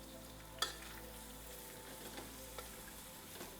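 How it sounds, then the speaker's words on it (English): Onions fry in a pot, a continuous soft sizzle with occasional scraping clicks as they are stirred, no voices. "I will introduce my onion."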